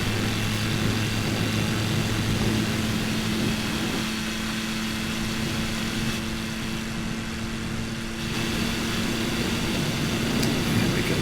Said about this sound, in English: We'll go full throttle, ready for takeoff.